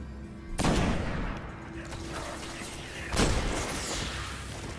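Gunfire in the sci-fi shooter game Destiny, with two heavy blasts followed by a sustained rumbling roar of weapon fire and echoing booms. No voices are heard.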